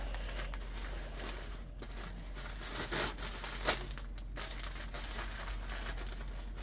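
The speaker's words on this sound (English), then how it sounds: "You can just rip the paper." Wrapping paper on a mail parcel is ripped and crinkled open by hand, a close, continuous rustling and tearing with a few sharper snaps, steady over several seconds.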